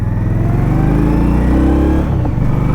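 A 2020 Indian Scout Bobber Sixty motorcycle, its 1,000 cc engine idling with a loud, close, throbbing rumble that swells in a brief rev and settles back, heard alone without talk.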